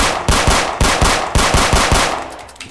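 Rapid automatic gunfire aimed at car tires in the Roblox video game, about ten evenly spaced loud bursts in a quick steady rhythm, close and alone.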